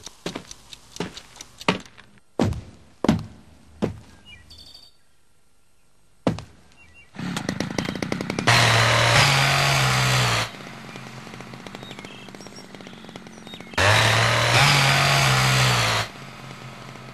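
A chainsaw revs in two loud, close bursts of about two seconds each, with a lower idle between them, after some scattered knocks and thunks.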